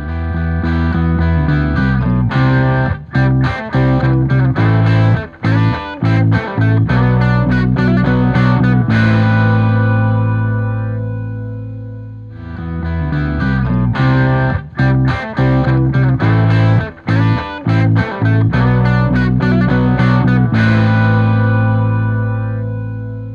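A distorted electric guitar riff with effects plays loud and continuous, repeating its phrase twice with a short break midway.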